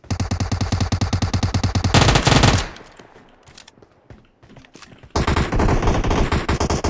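Uzi submachine gun fire in PUBG Mobile, loud rapid automatic bursts: a long rattling string, a brief lull with faint scattered sounds, then another sustained burst.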